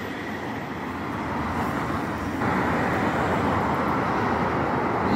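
Road traffic from a busy roadway beside a private-housing area on the edge of Saint Petersburg, a constant loud broadband roar of passing cars that swells slightly partway through and never pauses.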